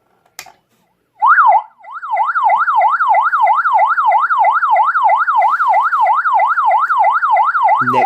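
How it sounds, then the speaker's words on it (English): A Freighter electronic siren speaker sounds loud and close, starting with a brief rising wail tone and then switching into a steady, rapid yelp that warbles up and down continuously with no voices over it. "Next is the wail. followed up by the yelp."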